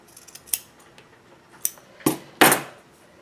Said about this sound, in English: and I'm just going to trim.